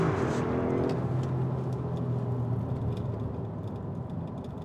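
A 2024 Audi SQ7 with a twin-turbo petrol V8 launches hard in sport mode, its engine roaring as a loud, sustained drone that shifts pitch through the acceleration and fades slightly toward the end.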